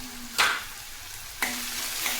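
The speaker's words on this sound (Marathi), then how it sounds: "टोमॅटो छान फ्राय झाले आहे तेलात" Chopped tomatoes frying in hot oil for a homestyle urad dal curry, two bright bursts of sizzling a second apart, each fading to a steady hiss, close and loud.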